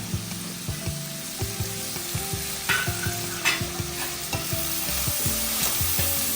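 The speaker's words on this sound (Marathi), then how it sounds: "आता आपण खडे मसाले टाकणार आहोत. लवंग, काळी मिरी आणि तेजपान." Whole spices (cloves, black pepper and bay leaf) frying in oil for a veg biryani gravy, a bright steady sizzle with rhythmic spoon knocks and scrapes against the pan, close and alone.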